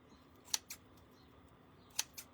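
Scissors snip through paper while bow shapes are cut out for a painted bunny craft, two quiet paired snips, each a sharp click followed by a softer one, in a hushed room.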